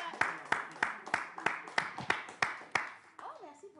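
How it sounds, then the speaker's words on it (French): A studio audience claps in a steady, evenly spaced rhythm, with roughly a dozen sharp, close claps, before a voice and a brief tonal sound take over at the end. "Oh, merci pour les applaudissements."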